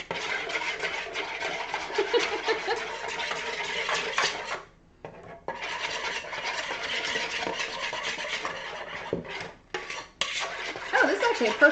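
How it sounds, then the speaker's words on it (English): A whisk scrapes and clatters against a bowl while mixing pumpkin scone batter, a close, continuous metallic stirring that breaks off briefly twice before resuming. "we're going to whisk this"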